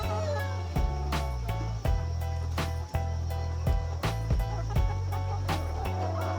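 Egg-laying hens make repeated calls with sharp pecking taps mixed in, close by and fairly steady throughout.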